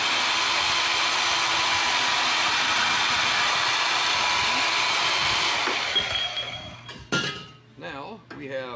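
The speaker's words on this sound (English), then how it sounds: "we're going to show you how well it cuts this hardened steel." Band saw cutting hardened steel, a loud, steady, hissing grind that holds for about six seconds before it breaks off, with a few clinks and a voice toward the end.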